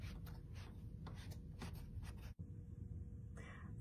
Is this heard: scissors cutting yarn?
yes